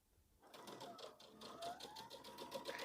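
A sewing machine stitches around a felt shoe in a rapid, steady run of needle clatter. It starts after a brief quiet moment and continues at close range with a rising whir.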